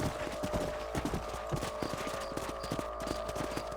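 Horse hooves clip-clop at a steady trotting rhythm in the Western game Red Dead Redemption on PS5, close and clear as a rider heads out across a farm property, with faint ambient music underneath.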